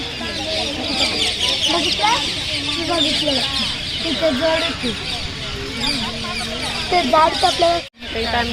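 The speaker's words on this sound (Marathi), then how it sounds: "सगळे पोपट आता ह्या वेळेची इथे येऊन बसतात" A flock of parrots gathers in trees, giving dense, continuous squawks and chattering calls throughout, with people talking nearby, and a brief sharp dropout near the end.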